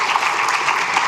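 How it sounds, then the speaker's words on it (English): A cheering squad at a school board meeting gives a short burst of loud, dense applause, steady clapping filling the room. "You have a cheering squad here."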